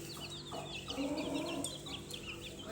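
Hens cluck softly in short, repeated bursts, faint and somewhat distant, with a low background hum and no talking.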